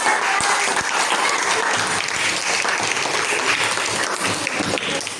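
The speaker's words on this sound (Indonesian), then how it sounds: "Tambahan yang bagus, tepuk tangan untuk Zikri" Students in a classroom applaud a classmate with loud, sustained clapping from many hands, a dense roar that stays strong throughout.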